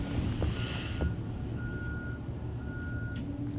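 Reversing beeps from construction works behind a hotel in Los Angeles, a few thin repeated tones sounding at a distance over low truck rumble and background noise, with no talk.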